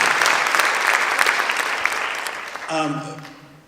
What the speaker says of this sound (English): give a big round of applause to each other